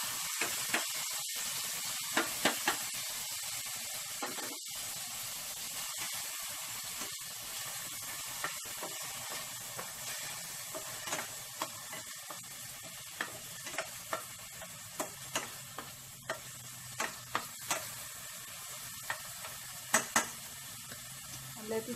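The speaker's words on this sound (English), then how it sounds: "Now it's simmering." Tomatoes with browned onion simmer in a pan for spaghetti sauce, giving a steady soft sizzle and hiss, broken by repeated sharp clicks and scrapes of a spoon stirring against the pan.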